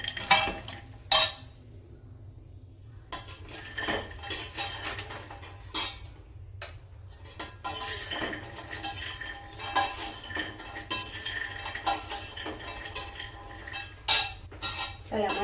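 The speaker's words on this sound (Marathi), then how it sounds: "असे मी सगळे ड्रायफ्रूट टाकून भाजून घेते" Dry fruits are roasted in ghee in a pan and stirred steadily, with repeated metallic spoon scrapes and clinks against the pan over a low background hum.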